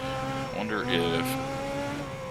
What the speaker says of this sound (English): my brakes not being warm is affecting things. Because you can hear them squealing a bit.